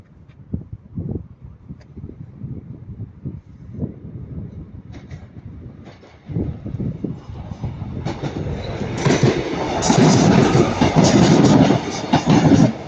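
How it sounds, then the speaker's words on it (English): A late-running Bournemouth to Manchester Piccadilly passenger train at Ardwick approaches from a distance, its rumble building steadily into a loud, close pass with wheel and rail clatter. "this is the late Bournemouth to Manchester Piccadilly"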